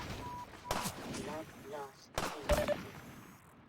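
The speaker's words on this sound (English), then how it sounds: "Oh, I was hearing a sniper." Sniper shots crack in the video game Fallout, in the Vault 109 map, two sharp loud reports each followed by a short echoing tail, with someone talking over them.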